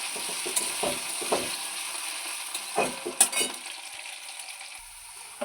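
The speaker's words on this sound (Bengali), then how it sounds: "ভিজিয়ে রাখা আলুগুলো দিয়ে দিলাম এটা একটু ভাজা হয়ে গেলে" Soaked potatoes added to hot oil for a beto shak vegetable curry, frying with a soft steady sizzle and a few scraping stirs and clinks, no talking.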